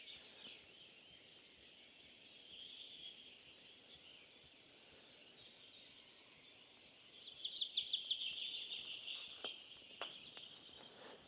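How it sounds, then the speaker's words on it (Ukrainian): Birds chirp and call in the distance over a soft outdoor background in spring, with a brighter burst of quick twittering partway through and a few sharp knocks near the end. "Це так пташки співають"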